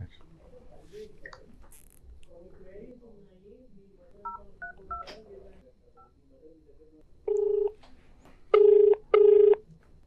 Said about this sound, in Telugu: డాక్టర్ గారికి కాల్ చేసి మాట్లాడదాం